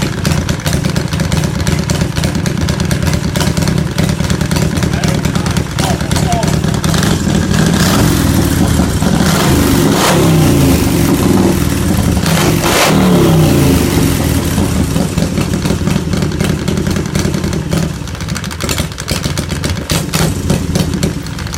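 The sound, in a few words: motorcycle engine starting up and revving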